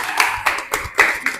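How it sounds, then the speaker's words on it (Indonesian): A few people clap in a classroom observation session, a short burst of loud, separate handclaps in an uneven rhythm close by, with no talking. "Iya, tepuk tangan."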